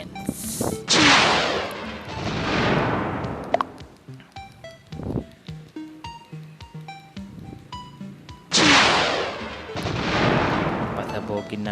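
Repeated booming planet explosions in the mobile game Planet Smash, loud bursts opening and closing the stretch, with a run of short crackling impacts and clicks between them.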